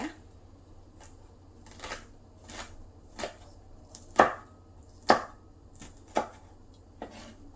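A knife slices chili peppers on a cutting board in a steady series of about ten crisp thuds at close range, a few louder strikes midway, with no talking over them.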